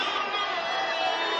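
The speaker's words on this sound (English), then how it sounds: "Home crowd trying to get lathered up" Home fans at a college football game, ASU against Bethune-Cookman, roar in a steady, dense wall of crowd noise with no distinct voices standing out.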